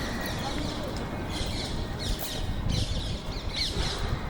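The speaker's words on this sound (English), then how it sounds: "I'm just gonna go outside and record actual birds since there are so many like birds around." Real birds outdoors, crows cawing and squawking in several short, fairly distinct calls over steady background noise, with no one talking.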